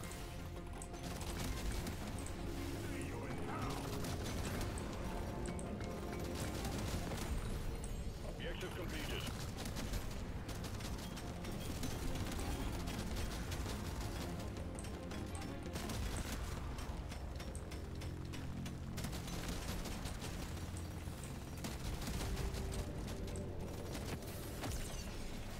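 Rapid Deepcore Gunner gunfire in the game Deep Rock Galactic: Survivor, a dense continuous clatter of shots and impacts under game music and effects, with a voice talking over it.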